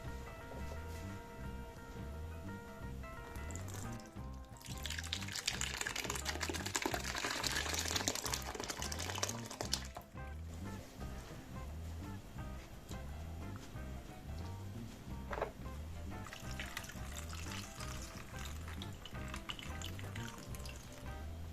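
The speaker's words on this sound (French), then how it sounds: "on fait passer la totalité du caillé." Homemade Polish twarog curd poured through a strainer lined with cloth, giving a wet splashing and trickling that swells in two bursts over a steady background of rhythmic rumbling.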